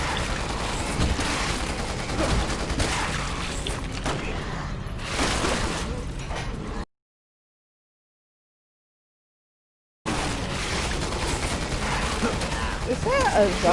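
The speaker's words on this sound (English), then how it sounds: "Is that a zombie firing a fucking gun?" Rapid gunfire in Resident Evil 6 from a zombie shooting a gun, dense continuous bursts with game effects and a voice over them, cut by a few seconds of silence before the shooting resumes.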